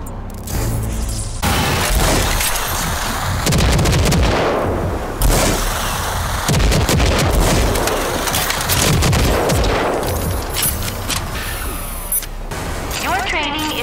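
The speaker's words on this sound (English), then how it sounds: "Use the smart rocket launcher's overdrive against the simulated enemies." Smart rocket launcher overdrive fire in RAGE 2 roars as loud, dense blasts and explosions pile up almost continuously against simulated enemies.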